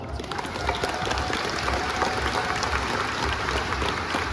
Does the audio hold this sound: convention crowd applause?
yes